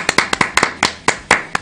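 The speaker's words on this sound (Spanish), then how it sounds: "Un aplauso enorme." A small audience at the close of a talk-show interview claps in scattered, uneven bursts, about ten sharp distinct hand claps over under two seconds, close and fairly loud, with no voices.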